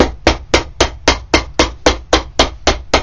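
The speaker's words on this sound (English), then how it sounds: "Let me hammer this." A hammer strikes an Allen Edmonds Fifth Street boot during restoration, eleven sharp, loud, evenly spaced blows in quick steady rhythm, close up with no talking.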